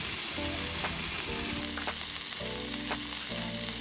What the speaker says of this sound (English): While the beef patty was frying